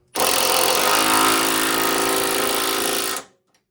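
Air impact gun tightening shock absorber bolts on a Land Rover Defender double cab, one continuous loud rattling burst of about three seconds, close up, then cut off.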